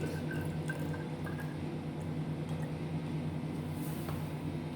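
A 25 ml water sample is poured while measuring it out for a Nessler-method nitrogen analysis, giving a soft, steady trickle of liquid over a constant low hum for about five seconds, with no talking.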